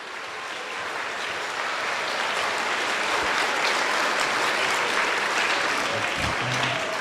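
A school audience at a middle school Veterans Day assembly applauds in a dense, sustained wash of clapping that swells and holds steady at close range.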